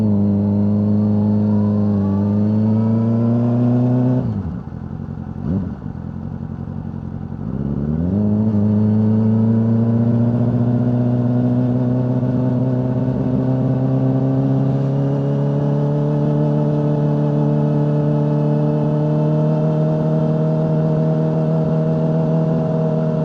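A Yamaha R6 ridden at night in Korea gives a loud continuous engine drone that briefly drops as the throttle is rolled off, then climbs and holds a steady cruise with wind noise, no talk.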